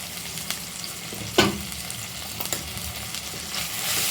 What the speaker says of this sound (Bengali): ভালো করে ভেজে নেব। আদা রসুনটা